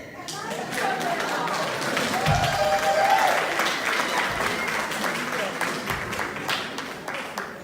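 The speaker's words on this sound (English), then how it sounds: "We got cheering!" A congregation at a Sunday service in East Bay cheers and claps, a steady dense wash of applause with scattered whoops and voices mixed in, loud and sustained throughout.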